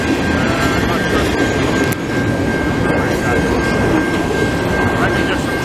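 A long CP freight train rushes through the Beaurepaire level crossing in Montreal, giving a loud, steady rumble and rattle of wagons with a persistent ringing tone from the crossing bell.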